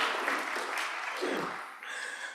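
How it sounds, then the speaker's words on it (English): An audience at an environmental justice event in Albany claps for a speaker, a steady close wash of applause that dips briefly near the end and carries on. "Let's give him a round of applause"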